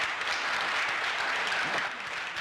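Audience applause in a room after a woman finishes recounting her personal story, a steady dense wash of clapping held at even loudness throughout.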